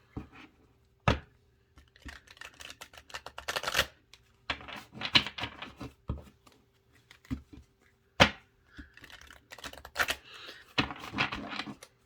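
Repeated rapid shuffles of a deck of large reading cards, bursts of papery clicking and riffling separated by short pauses, close up and fairly loud.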